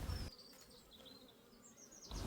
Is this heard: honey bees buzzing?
yes